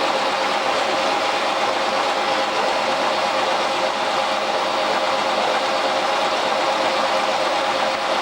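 Machine taking the final cut on a broach bush, a steady broadband whirring and hiss that continues evenly throughout, with no pauses or voices.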